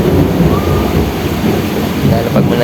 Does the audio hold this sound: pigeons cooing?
no